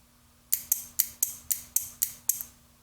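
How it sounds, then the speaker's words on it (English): A relay clicks loudly eight times in a quick, steady rhythm as a switch is squeezed, each click sharp and close, with a faint hum underneath. "You can hear the relay clicking quite loudly."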